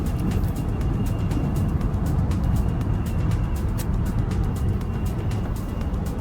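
Interior of a driverless robotaxi car cruising through Abu Dhabi, with a steady, loud road and engine roar and constant tyre rush that holds level throughout, and no talking.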